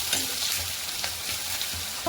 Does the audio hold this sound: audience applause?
no